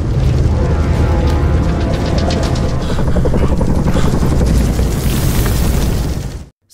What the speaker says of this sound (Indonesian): muncul sebuah helikopter militer yang berniat memindahkan semua Eko ke Incheon